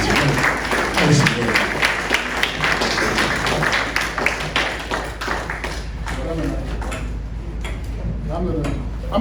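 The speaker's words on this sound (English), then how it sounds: "And give them another nice round of applause." Audience applause following classical pieces at a Sunday concert, a dense, steady patter of many hands clapping close by for the full length, with some voices mixed in toward the end.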